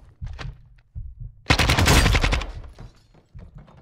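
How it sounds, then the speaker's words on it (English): Automatic gunfire bursts through a wall in the Modern Warfare 2 campaign, a dense, loud rattle lasting about a second, framed by shorter, softer shots before and after. "I guess I kept shooting her through the fucking wall or some shit."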